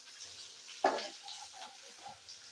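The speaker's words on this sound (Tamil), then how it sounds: "வெங்காயம் சேர்த்துட்டு நல்லா இதை நம்ம வதக்கிக்கலாம்" Onions dropped into a hot pan with oil and fennel for a village-style egg curry, one sharp hiss as they land, then a low steady sizzle with faint stirring.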